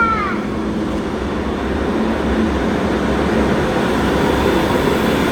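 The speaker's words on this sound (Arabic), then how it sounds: "طلع ابو القطار." A passenger train pulls in at a station on a family trip to Munich, its broad steady rumble and rolling hum filling the air, with a brief high squeal at the start.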